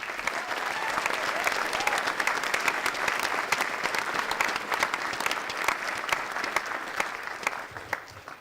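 Sustained, dense applause from a college convocation audience at Champlain College, many hands clapping steadily for about eight seconds, fairly close and even, tapering slightly at the end.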